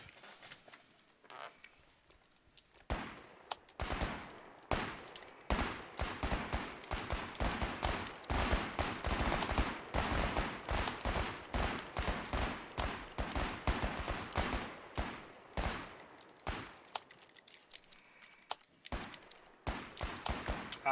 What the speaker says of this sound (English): the sound of 100 pistols reloading at the same time